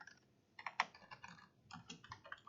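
Typing code on a computer keyboard: close, quiet bursts of key clicks in an irregular rhythm, with short pauses between clusters of keystrokes.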